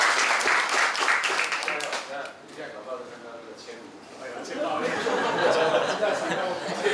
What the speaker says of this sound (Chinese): 大家给他们鼓掌好不好？